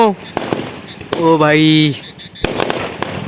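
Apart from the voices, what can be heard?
firecrackers bursting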